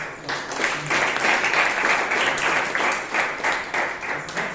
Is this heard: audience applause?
yes